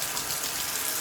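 A tap runs water steadily into a temporary sink plumbed into an abandoned house under renovation, giving a constant close gushing hiss with no pauses and no voices.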